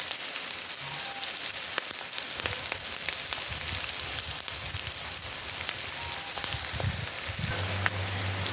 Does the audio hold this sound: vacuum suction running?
no